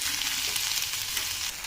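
Potatoes frying in a pan for a batata methi dish, a steady close sizzle with continuous bright crackle and no pauses.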